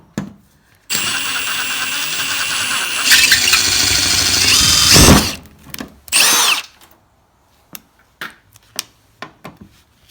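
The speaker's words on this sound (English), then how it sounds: "So with rivets, you basically just get a drill bit bigger than what the rivet would be, and then just drill it out." A power drill bores out rivets on a Nissan S13 in a garage, running in long loud whining bursts that rise in pitch and then stop, followed by scattered clanks and taps of metal.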